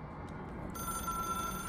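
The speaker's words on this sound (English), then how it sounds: "It is a phone." A telephone rings in the video game Control, with a steady high electronic ring tone that enters partway through over a constant low background hum, close and fairly loud.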